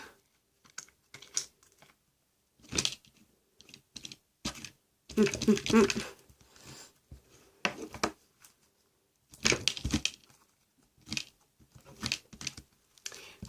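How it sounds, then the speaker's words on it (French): Homemade slime with beads is mixed by hand, making close, intermittent squelching, crackling and clicking bursts separated by brief silences. "Je vais mélanger tout ça avec l'autre."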